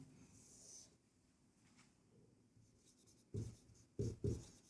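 Chalk or pen scratches softly as a formula is written by hand in a quiet room, faint intermittent strokes followed by a few short louder taps or breaths near the end.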